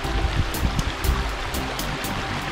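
A river flows steadily past a quiet, secluded bathing spot in France, giving a constant close rushing and gurgling wash of water with no voices.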